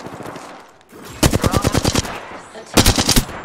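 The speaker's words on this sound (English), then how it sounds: "Firing. I'm taking shots." Weapon fire in the video game Apex Legends comes in two rapid automatic bursts of closely spaced, loud shots, separated by a brief pause.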